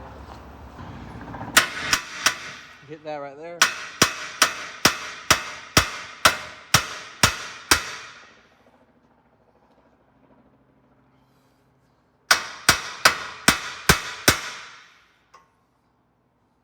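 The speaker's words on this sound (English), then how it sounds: "get a hammer, knock this out of the way" Sharp metallic hammer strikes knocking out a Lexus IS300 suspension ball joint ring out in a fast, steady series, pause during a brief spoken remark and silence, then resume for another quick run of blows.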